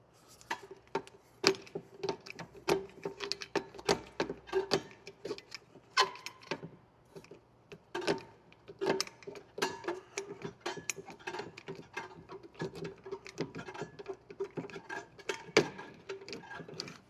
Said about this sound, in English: use a flathead screwdriver that fits through the hole, and you're gonna move that star.